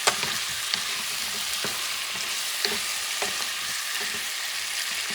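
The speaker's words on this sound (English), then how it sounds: "Mix things up." Bison stew ingredients with garlic being stirred in a hot pot, a continuous loud sizzle with repeated scraping spoon strokes and a few light clinks, no voices.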